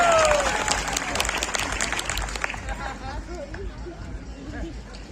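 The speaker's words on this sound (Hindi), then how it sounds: "बार ताली बजाओ फिर कवि सम्मान शुरू करते हैं।" An audience at a Hindi comic poetry gathering claps, a dense burst of applause mixed with crowd chatter that thins into murmuring voices and scattered claps.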